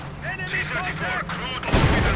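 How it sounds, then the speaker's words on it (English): Company of Heroes 2 battle sounds: a quick burst of gunfire, then a heavy mine explosion close by, under voice chatter. "Looks like they hit a mine over there, and then a few other things."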